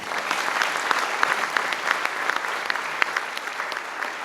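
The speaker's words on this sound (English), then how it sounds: "We can clap for that." Audience at a TEDx salon talk bursts into sustained applause, dense steady clapping from a seated crowd lasting several seconds with no voices over it.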